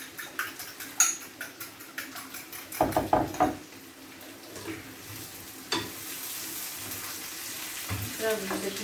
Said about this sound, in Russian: сразу закину колбаску, пускай все вместе жарится